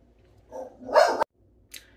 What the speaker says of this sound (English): See, the dogs are upset.